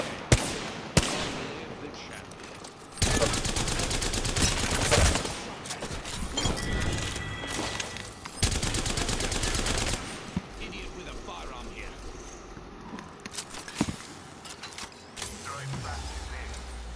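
Rapid bursts of automatic gunfire in the video game Apex Legends, loud and close, with long sustained volleys broken by short gaps and scattered single shots, mixed with in-game mechanical clatter and brief voices.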